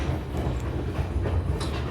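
Steady rumble of a New Hope Railroad passenger train rolling along near the village of Hood, a continuous low roar with faint rhythmic wheel clatter and no talking.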